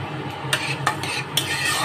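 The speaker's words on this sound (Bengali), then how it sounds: "দিয়ে দিচ্ছি দেখো একটু কালো জিরে ফোড়ন" Nigella seeds (kalo jeere) go into hot oil for a potato dish, with a close, steady hiss of sizzling oil punctuated by three sharp spoon-against-pan clinks as they are stirred.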